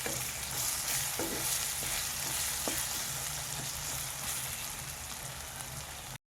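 Raw ginger-garlic paste fries in hot oil in a pan for dhal, giving a loud, continuous, dense sizzle with a few faint stirring taps and no talking.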